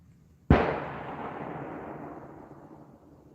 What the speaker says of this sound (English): Look out, they're shooting, says Lady Grace.